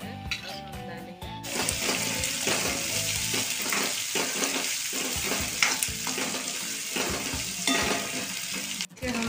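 Ginger fries in a pan for paneer chilli, with a steady close sizzle broken by irregular stirring scrapes and occasional clinks throughout.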